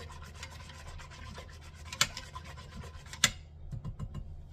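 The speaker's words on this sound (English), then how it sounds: "now you're going to whisk this up just to make sure it's all stirred in" Wire whisk scraping and rubbing through a yogurt mixture inside an Instant Pot's metal inner pot, a steady close rasping with two sharp clinks against the pot wall.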